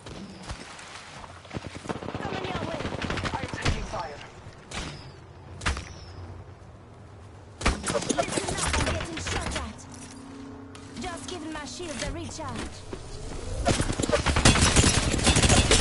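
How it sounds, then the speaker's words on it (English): Video game gunfire in an arena shooter: bursts of rapid shots and sharp single cracks, loud and close, with impacts and effects scattered through a busy, layered mix. "Shots fired at me. Taking fire."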